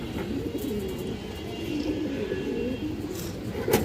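A male Gola pigeon, an old-line breed, coos in a low, steady rolling stream close by, continuous and fairly loud with no talk over it.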